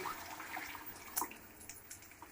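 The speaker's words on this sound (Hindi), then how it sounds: "अब मैं यखनी डालने लगी हूँ।" Yakhni broth is poured into a cooking pot, giving a faint, soft liquid splash and trickle with a few light drips, heard close and quiet.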